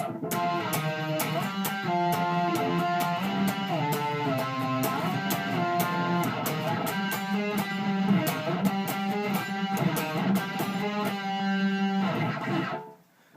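A distorted electric guitar plays a riff, driving and repeating with steady rhythmic chugs and slides, loud and close, then stops abruptly at the end.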